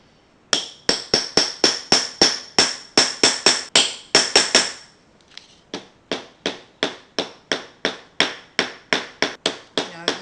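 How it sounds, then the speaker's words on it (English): A metal hammer strikes an eyelet setter tool while setting an eyelet in a crafted paper passport, about two dozen sharp, close taps in a steady rhythm with a brief pause midway. "And then I've got another little tool that I lay over the top that I use my hammer with"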